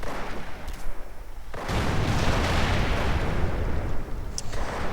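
Mortar barrages and artillery blasts in a Company of Heroes Eastern Front mod 1v1 match between Soviet and German forces, a quieter rumble first, then dense continuous booming explosions from mid-clip onward, loud and sustained.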